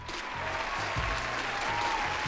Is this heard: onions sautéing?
no